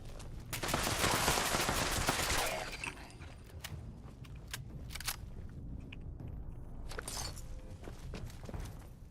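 Gunfire in Fallout 76: a dense burst of rapid shots for the first few seconds, followed by scattered single shots and movement sounds, fairly loud throughout.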